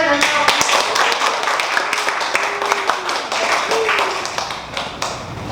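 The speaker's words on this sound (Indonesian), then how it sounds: "Tepuk tangan." Scattered clapping from a group in a classroom, close and uneven, mixed with people talking and murmuring, then fading toward the end.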